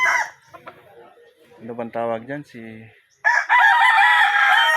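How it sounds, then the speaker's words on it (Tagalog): Backyard chickens cluck in short bursts, then a rooster crows loudly and up close, with a person talking between the calls. "Ayan mga manok natin"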